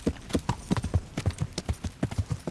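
Horse hooves clip-clop at a brisk, steady trot across ground in Kingdom Come: Deliverance, with a dense run of regular thuds close by and no talk over them.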